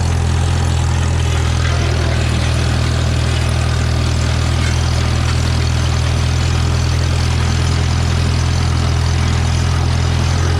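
A tractor engine runs steadily in third gear, a loud, continuous low drone with a constant hum and no break across the stretch, heard alone without voices.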